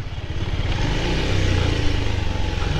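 An old motorcycle, roughly ten to twelve years old, rides a rough mountain road in Mustang, Nepal, its engine loud and close with a steady low throbbing putter and rattling clatter throughout.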